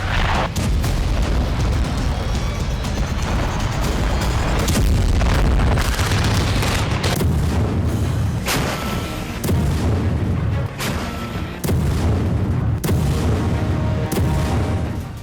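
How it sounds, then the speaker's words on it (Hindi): Heavy explosions from bombardment in Gaza, a dense run of deep booms and sharp blasts, loud and continuous with dull rumbling between impacts and no talk. "धमाकों से गाजा को दहलाया जाता है।"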